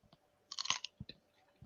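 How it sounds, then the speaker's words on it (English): A crunchy bite into spicy food, with a sharp crisp crackle followed by a few close, quiet chewing crunches in an otherwise quiet room. "Crunchy. Nice crunch there."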